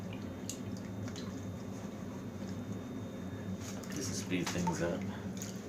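Gold pay dirt is swirled in water in a pan during back panning, giving soft drips, sloshes and small splashes at close range while someone talks over them.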